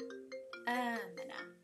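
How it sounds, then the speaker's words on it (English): A phone ringtone plays steady electronic tones, loud and close, partly overlapping with a person speaking. "Okay, that was a phone call coming through."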